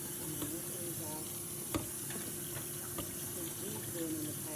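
Brussels sprouts are rinsed in water in a home kitchen, giving a steady wet splashing and running-water hiss with a few small clinks, and a voice talks over it.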